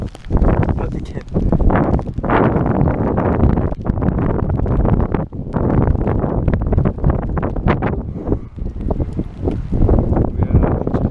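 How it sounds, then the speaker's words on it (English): Strong wind blows across a man-made island beside the sea at Odaiba, Tokyo, a loud continuous rumble hitting the microphone in repeated gusts with brief dips, near and dominant the whole time. "So it's really windy."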